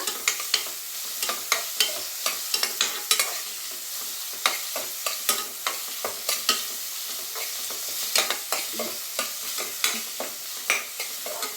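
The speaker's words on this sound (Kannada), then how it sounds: "ಎಣ್ಣೆಯಲ್ಲಿ ಚೆನ್ನಾಗಿ ಫ್ರೈ ಮಾಡೋಣ." Green masala for avarekayi sambar fries in hot oil, with a steady sizzle under frequent, rhythmic scrapes of a spatula against the pan, close and fairly loud.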